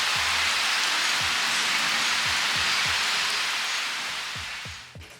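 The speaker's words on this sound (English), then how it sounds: "This was 2 days before Hurricane Beryl hit, but I was still getting some wind and rain." Steady, dense rain pours down two days before Hurricane Beryl, a continuous close hiss that holds even and then gradually softens toward the end, with no voices.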